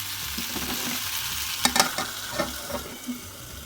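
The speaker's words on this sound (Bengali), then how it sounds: "লো হিটে ঢেকে টমেটোগুলো সিদ্ধ করে নিব।" Tomatoes cooking in a pan with soybean oil and a splash of water: a close, continuous sizzle and bubbling hiss, with a few brief spatters and stirring knocks toward the middle.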